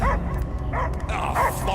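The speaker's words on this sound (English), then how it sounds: "I hear only barking." A large dog barks in the Marvel's Guardians of the Galaxy video game: three or four loud, close, deep woofs in quick succession, with a faint whimpering quality.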